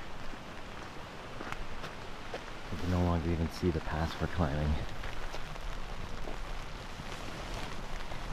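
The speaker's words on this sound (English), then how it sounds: "It is raining pretty hard." Heavy rain hisses steadily throughout on a trail with river crossings, with a voice speaking over the downpour partway through.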